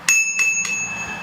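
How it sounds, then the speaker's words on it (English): The handlebar bell on a 2017 Giant XTC Jr 20-inch kids' mountain bike rings three quick, bright dings in a row, close and clear, each leaving a short metallic ring. "So on the cockpit we have the bell"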